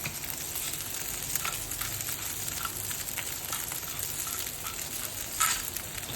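Pork chops sizzle in a frying pan with black pepper as they are stirred, a steady soft frying hiss with faint scraping touches throughout and no voices.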